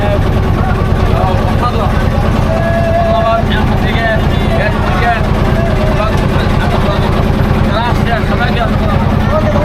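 A boat engine on a tourist boat trip at Rangamati drones loud and steady throughout, with people talking over it.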